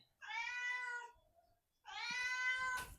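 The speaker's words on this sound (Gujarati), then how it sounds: "જો આ બિલ્લી મોસી આવી ગઈ છે" Two loud, drawn-out meows from a cat close by, separated by a short pause, with a faint rustle at the end.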